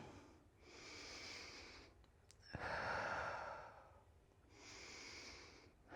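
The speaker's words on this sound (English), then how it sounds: "So we're going to take a couple breaths here." Slow, deep breaths from a person during a guided trauma-informed flow practice, three long soft inhale and exhale swells spread across the stretch, fairly close and quiet, with no talking.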